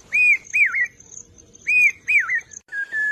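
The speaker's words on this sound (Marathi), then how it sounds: "भातशेतीच्या मळ्यावर पावसा पक्षी त्याच्या मधुर स्वरात जणू पेरते व्हा पेरते व्हा अशी" A pavsa rain bird calls over paddy fields, clear close whistled phrases in two paired bursts, each note rising and wavering, followed by a flatter held whistle, loud against a quiet background.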